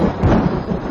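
In a film scene, a rainstorm rumbles with deep thunder under a heavy wash of rain, loud and close, lasting only about a second with no voices.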